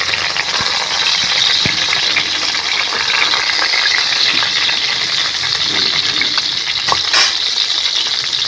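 An egg frying in a pan gives a loud, continuous sizzle and crackle with a few brief pops, close up and without any speech.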